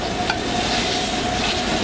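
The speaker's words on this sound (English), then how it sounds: "Now you can see we got a nice crispy crust on that skin. We're going to let that get seared on that side." Goose breast skin sears in a hot pan with a continuous, even sizzle and crackle, close and fairly loud, without talking.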